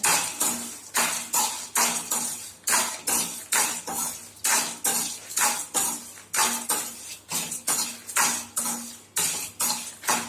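Curry leaves and peanuts are lightly roasted in a pan, with a spatula scraping in a steady, fast rhythm of repeated strokes, loud and close, with no talking.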